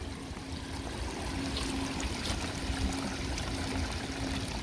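Stream of water at the Hira Cultural District, flowing with a constant close rushing and trickling under steady wind noise, with no talk.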